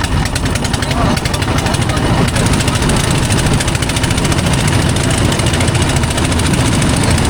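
A trawler boat engine chugs loud and near on a river in a continuous rapid knocking rhythm, with wind noise and a voice speaking over it.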